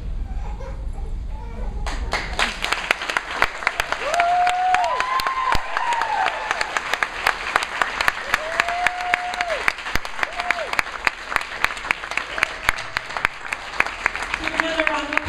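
Sustained applause from an audience after a poetry reading, steady dense clapping for most of the stretch, with brief tonal squeaks and a few voices mixed in.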